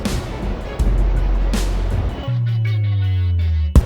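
Pahanthudawa waterfall on Belihul Oya gives a steady, dense rushing roar for about two seconds, then a smooth droning motor-like hum takes over for the rest.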